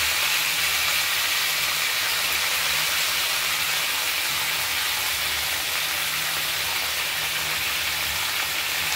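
Continuous frying hiss and crackle as mixed vegetables (brinjal, ridge gourd, pointed gourd, radish, potato, green banana) fry in a hot wok, steady and fairly loud throughout, with no talking.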